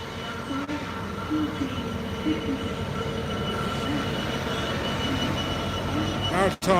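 A Maritime Intermodal freight train rolls past close by on a British line, a loud continuous rumble and wheel noise with faint squeals throughout and a sharp burst near the end.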